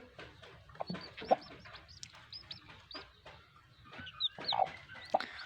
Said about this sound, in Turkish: Civcivlerimizin bugün ikinci günü.